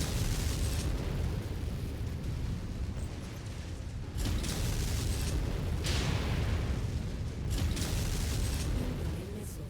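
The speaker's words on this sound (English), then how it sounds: "Incoming missile." Missile blasts in a video game battle boom in several heavy bursts, about four seconds apart, over a constant loud rumbling bed.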